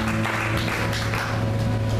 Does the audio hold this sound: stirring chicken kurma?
no